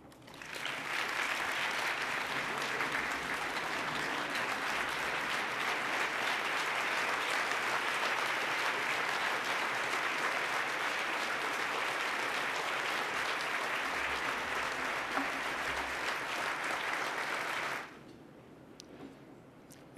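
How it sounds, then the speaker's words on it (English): A large crowd applauds at the 2011 MMAF fundraising dinner, with sustained, even clapping for about eighteen seconds that then stops abruptly, leaving a quiet room. "Let's give one more round of applause to Kiana and John"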